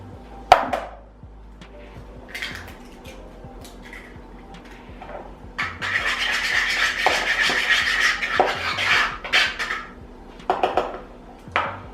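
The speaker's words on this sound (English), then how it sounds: "I'm gonna go right ahead and crack 2 eggs into the banana puree" Two eggs cracked against a bowl and dropped into banana puree for banana bread, with sharp taps and clinks of kitchenware scattered among louder scraping and mixing noise from a home kitchen, no talk.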